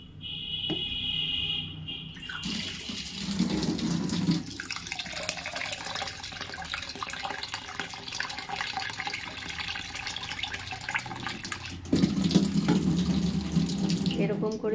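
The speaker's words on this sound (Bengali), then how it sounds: "এরকম করে অনেকবার চালটাকে ধোবো, পরিষ্কার করে নেব।" Rice being washed under a running kitchen tap, with water pouring steadily into a bowl or sink, splashing louder at moments as the grains are swished and rinsed, close and continuous.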